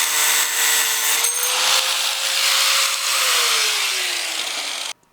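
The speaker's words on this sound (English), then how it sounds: "we'll cut it up with the angle grinder" An angle grinder cuts steel for a Tacoma truck bed stiffener, a loud continuous high-pitched whine with a steady motor hum that dips slightly under load, then stops abruptly.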